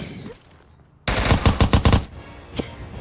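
Rapid burst of gunfire from a pistol in the video game America's Army: Proving Grounds, about six loud, close shots over roughly one second, then quieter game ambience.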